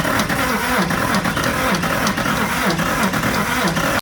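A Toyota 1VD diesel engine cranks on its first start after a swap into a 60-series 4x4, a steady rhythmic churning of the starter turning over a bit slowly, loud and close, with no catch or firing.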